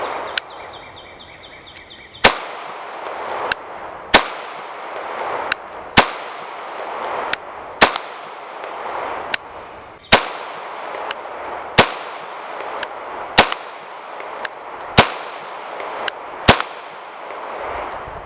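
A CZ P07 pistol fires at range targets, about a dozen sharp, loud shots spaced roughly one to two seconds apart, each cracking and then decaying with a short ringing tail.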